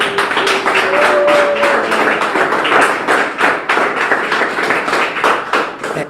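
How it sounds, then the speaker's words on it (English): Audience applause at a community event celebrating the reopening of local small businesses: steady, dense clapping from a crowd that fills the whole stretch, fairly loud and close, with a brief tonal sound early on. "Let's give you guys a round of applause."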